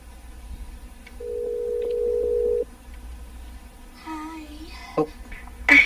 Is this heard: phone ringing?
yes